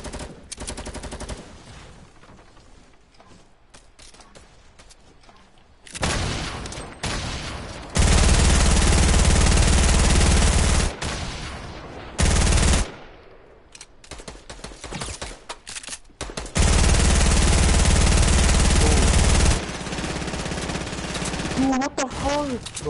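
Bursts of rapid video game gunfire in a Fortnite-style Getaway mode match, coming in long, loud, dense volleys with quieter stretches between them, while players talk over the shooting.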